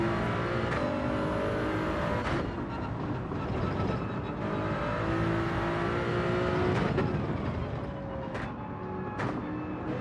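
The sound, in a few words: Toyota Supra race car engine accelerating in Gran Turismo 7 video game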